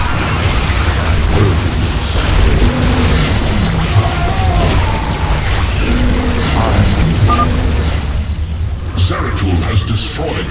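Booming explosions as Nydus worms are destroyed in StarCraft 2, a dense, continuous roar of bursts and rumble layered with game effects and a voice speaking over the top throughout.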